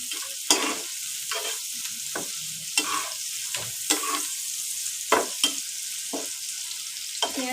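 Onions frying in a pan for egg Maggi noodles give a steady close sizzle, broken by repeated scraping strokes of a spoon stirring them, with no one speaking.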